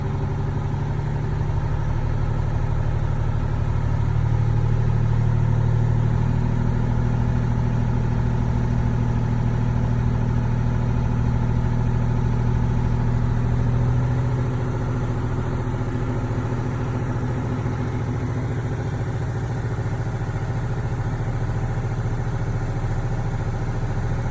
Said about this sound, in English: I want to rev the truck up to approximately 120 to 140